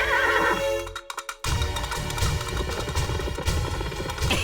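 Horses neighing in a chase scene, a loud shrill whinny up front, a brief crash-like break, then another drawn-out whinny with hoof clatter and hard impacts underneath, close and busy with no talk.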